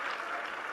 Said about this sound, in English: How can we not give another round of applause to